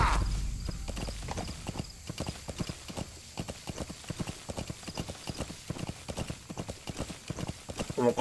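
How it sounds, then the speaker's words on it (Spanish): A horse gallops in the video game Metal Gear Solid V: The Phantom Pain, its rapid, evenly spaced hoofbeats pounding close and clear throughout, with a faint voice in places. "Como corre el caballo, ¿no?"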